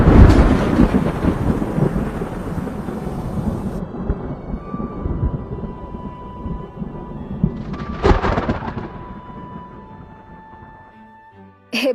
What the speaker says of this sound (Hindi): तभी बहुत तेज बिजली कड़कने की आवाज आती है।